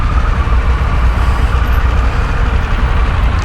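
A 2023 Harley-Davidson Pan America Special motorcycle drones steadily while riding, a loud and constant low engine rumble mixed with dense wind roar and no pauses, close to the listener.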